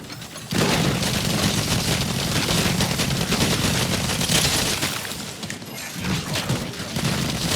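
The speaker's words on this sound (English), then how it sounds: "I haven't stopped shooting him." Rapid automatic gunfire in the competitive shooter The Finals, a sustained fusillade of close, loud shots with brief dips, continuing almost nonstop across several seconds.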